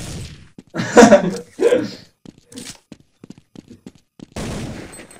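Gunfire in Counter-Strike 1.6, with a few sharp shots breaking through excited talk and a short burst near the end.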